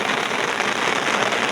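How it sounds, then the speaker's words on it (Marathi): Heavy rain pours down steadily in a dense, even hiss with no pauses, close and loud, in a coastal fishing village. "पाऊस खूप पडतो."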